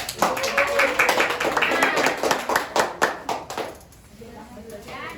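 A class of secondary-school students claps together in a classroom, a dense burst of applause that runs for about three and a half seconds before trailing off into quieter room sound.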